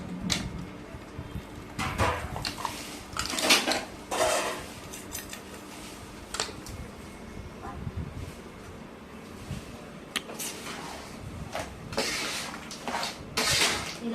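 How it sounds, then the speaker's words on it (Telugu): Jaggery melting in a pot for ash gourd halwa, stirred with a spoon, giving irregular scraping and clinking strokes of metal against the pot, close and moderately loud, with no talking. "ఇలా ఒకసారి కలుపుకుంటే కరుగుతూ ఉంటుందండి, బెల్లం మంచిగా కరిగిద్ది"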